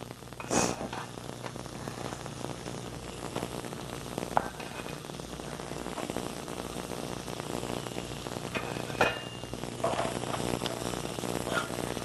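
Spice-stuffed okra sizzles in a pan with cooked onions, a dense, even crackle of hot oil filling the whole stretch, with a few sharper pops and clatters standing out now and then.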